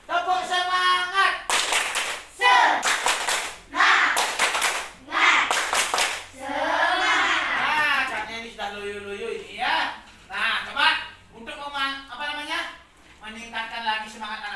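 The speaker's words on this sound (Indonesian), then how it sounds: "Coba tepuk semangat dulu yuk" A classroom of children performs a rhythmic spirit clap led by a teacher, loud bursts of synchronized clapping alternating with the teacher's voice and children's chanting between the patterns.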